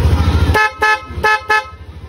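A Yamaha Aerox V2 scooter horn honks three short, sharp toots after a low idling rumble, loud and close.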